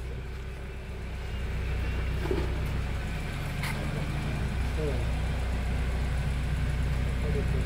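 A Honda Accord engine idles steadily after being restarted following more than a year unused, a low, even rumble running throughout with faint clicks and shop noise around it.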